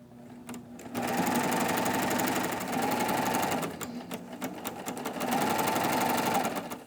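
A Baby Lock Triumph serger sews a chain stitch, its motor running in a fast, close, rhythmic whir with two sustained bursts and a short pause between them, and no talking.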